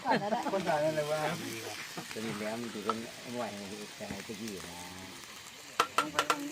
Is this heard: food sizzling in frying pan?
yes